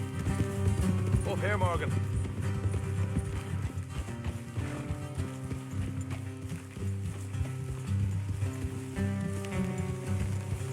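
Hooves of horses clip-clopping at pace in the Western game Red Dead Redemption 2, a steady trotting rhythm beneath orchestral game music, with a character briefly speaking over it.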